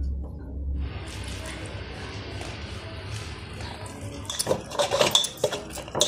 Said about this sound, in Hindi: अभी हम आटा सानने वाले हैं, एक आसा नमक मिला देते हैं।